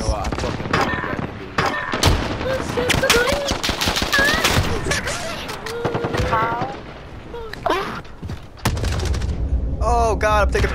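Dense bursts of video game gunfire crackle across the whole stretch, loud and near, mixed with other game effects and voices talking over the shooting.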